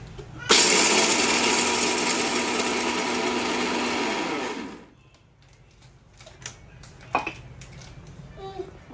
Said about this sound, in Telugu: ఇప్పుడు ఇట్లా గ్రైండర్ వేసుకుందాం. ఈ దొడ్డు బొడ్డు జర గ్రైండర్ వేసుకోవాలి.